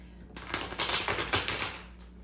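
Tarot cards shuffled by hand at a table, a dense run of quick riffling flutters and soft slaps that swell and fade over about two seconds, close and fairly loud with no talking.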